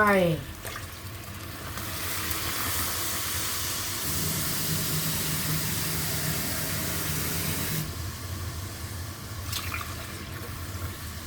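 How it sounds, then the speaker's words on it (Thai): Water pours into a cooking pot of coconut milk curry, a loud continuous rushing hiss that runs steadily for several seconds with a slight shift in tone partway through, while a voice speaks briefly. "ใส่น้ำลงไป"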